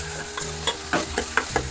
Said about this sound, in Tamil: அதுதான் ஒரு 2 நிமிஷம் மட்டும் நல்லா அந்த தேங்காய் போட்டு வதக்கியாச்சு.